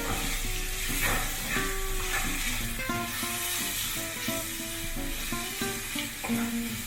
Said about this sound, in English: Cook the spices till the raw smell goes off.